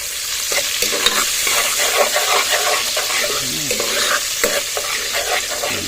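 Small Philippine onions stirred and fried in a pan for tuna pasta, a close, steady sizzle broken by repeated scraping strokes of the spatula.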